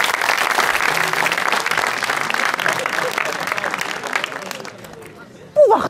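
Audience at a live stand-up comedy show breaks into sustained, loud applause with crowd murmur, tapering off near the end before a brief louder burst.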